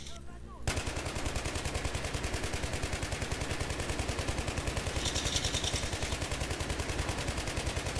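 Rapid automatic gunfire in the Battlefield 3 video game, a dense, steady stream of shots that starts abruptly within the first second and keeps a loud, even rhythm to the end.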